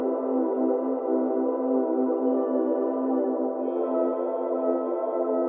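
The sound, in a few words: harmony pad sample from Splice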